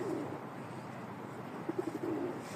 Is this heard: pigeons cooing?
yes